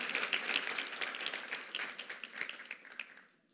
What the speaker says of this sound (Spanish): Un aplauso, Angélica, claro.